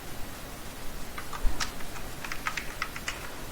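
Code is being typed on a computer keyboard in a quick, irregular burst of light key clicks. The keys sound close up over a faint background hiss, with no talking.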